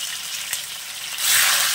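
Fish pieces for doi katla frying in hot oil, a close, steady hiss that swells louder and brighter toward the end.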